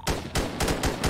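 Gunfire in GTA 5, a rapid run of about five sharp, loud shots in quick succession, close and alone.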